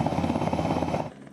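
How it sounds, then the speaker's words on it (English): Rescue helicopter flying over flooded Hawke's Bay after Cyclone Gabrielle, a loud, steady rotor chop with a rapid beating pulse close by, cutting off abruptly near the end. "Helicopter after helicopter after helicopter."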